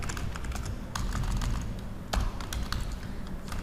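A computer keyboard rattles with fast, dense keystrokes as HTML code is typed, loud and close over a noisy room background, with no one talking.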